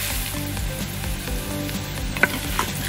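Onions frying in a pan for spaghetti Bolognese, a continuous close sizzle with a low crackling bed and occasional scrapes and clicks from stirring, no talk.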